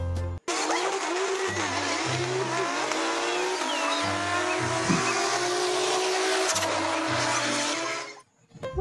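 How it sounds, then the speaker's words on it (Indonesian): Engine-revving and tire-squealing racing effects accompany toy trailer trucks, loud and continuous for about eight seconds over a looping bass-heavy musical beat before cutting off abruptly. "Truk trailernya sedang adu balapan."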